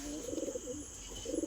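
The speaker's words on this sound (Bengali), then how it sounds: "এই যে হলো আমার বাড়ির পায়রা" Domestic house pigeons kept as a hobby coo nearby, a few rolling, throaty calls in two bursts separated by a short pause, quiet and alone.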